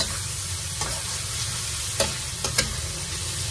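Meat sizzling in a hot pan while cooking pancit, a steady broadband fry hiss with a few brief stirring clanks near the end, close and alone with no talking.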